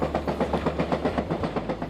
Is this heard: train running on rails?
yes